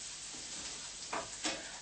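Onions and garlic sizzle softly in a frying pan, a faint steady hiss broken by two short stirring scrapes near the end.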